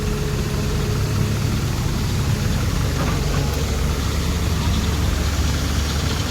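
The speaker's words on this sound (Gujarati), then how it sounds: "આજે 3 ટ્રેક્ટર આવી દીધા છે ગાઈસ" Tractor engine idling at a work site, a steady low mechanical rumble that stays constant and close throughout, with people talking in the background.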